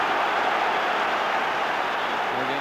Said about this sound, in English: Again, a huge roar goes up from the crowd.